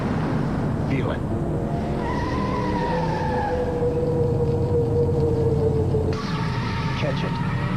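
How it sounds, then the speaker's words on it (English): Miller Genuine Draft stock car driven by Rusty Wallace in the 1993 Slick 50 500, its engine roaring steadily with rising tones and a sharp tire-squeal-like burst, loud and close over a dense, continuous race-track din. "The Miller Genuine Draft Rusty Wallace stock car."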